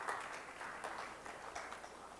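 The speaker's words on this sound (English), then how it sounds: "You guys can clap more." A conference keynote audience claps, a moderate spread of hands rising and falling in small swells at some distance, with no talking heard over it.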